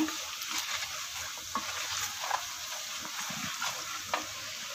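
Steady sizzling of spices frying in a pan for Kerala-style fish curry, with occasional scraping of a spoon stirring through them, fairly close and moderately loud.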